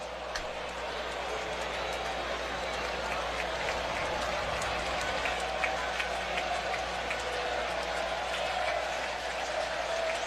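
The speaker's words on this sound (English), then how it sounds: "Crowd making some noise here." Crowd noise at a Milwaukee Brewers baseball game, a steady wash of cheering and scattered clapping from the stands that holds at an even, distant level, with a commentator's voice faintly over it.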